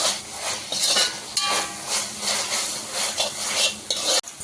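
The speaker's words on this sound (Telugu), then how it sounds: "వెజ్జెస్ అంతా సాసెస్ అంతా బాగా పట్టేలా మిక్స్ చేసేసుకున్నాం." Vegetables and ketchup-style sauces are stirred together in a pan for street-style veg noodles, with steady scraping and clinking of a utensil against metal over a constant sizzle and hiss, and no voices.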